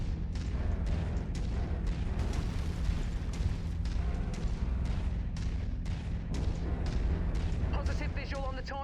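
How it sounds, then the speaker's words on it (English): Long-range missiles pound a mech in the MechWarrior 5 video game, a dense rolling barrage of booms and blasts layered over a steady engine rumble, with a brief electronic warble near the end. "My javelin's hitting him with some long-range missiles."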